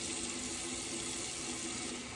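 Cold water running steadily from a tap for rinsing during a shave, a continuous close hiss and splash with no break and no voices.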